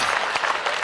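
Applause from an audience at a Hindi comic poetry gathering (kavi sammelan) in Bhopal, steady clapping that fills the whole short moment with no voices over it.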